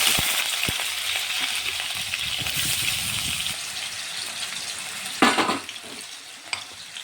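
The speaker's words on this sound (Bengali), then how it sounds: "তেল গরম হয়ে গেছে, এখন আলু দিয়ে দিচ্ছি।" Potatoes drop into hot oil in a kadai (wok) for a Bengali prawn and young jackfruit dish, giving a steady close sizzle that bursts into a loud crackling splash partway through before settling back to frying.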